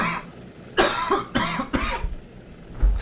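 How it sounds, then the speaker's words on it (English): A man who has been sick for a month lets out a few harsh, close coughs in separate bursts, with quiet pauses between them. "I've got this cough."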